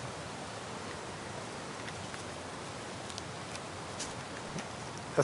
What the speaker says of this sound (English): That's kind of how rain goes a lot of the time.